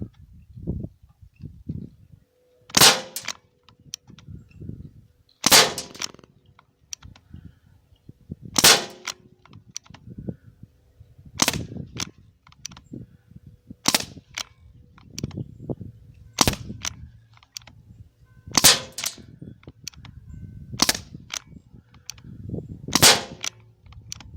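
A Crosman 1077 air rifle fires RS pellets at 10 m, giving about nine sharp, close cracks spaced a few seconds apart, with quiet handling clicks and rustling between shots.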